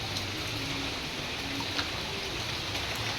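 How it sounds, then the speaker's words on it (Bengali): Steady rain patters down continuously, a dense hiss of drops with occasional louder splashes close by. "আর কন্টিনিউ বৃষ্টি হচ্ছে"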